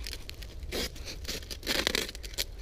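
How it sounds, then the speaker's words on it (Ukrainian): Adhesive tape torn and wound around a BMX bike frame to cover protruding metal staples, giving close, repeated ripping and crinkling bursts with no talking. "сейчас мы скотчем мотаем, чтобы ему было удобно учиться"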